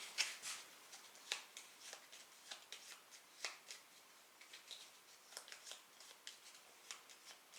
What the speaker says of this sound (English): So I will mix all the initiative cards.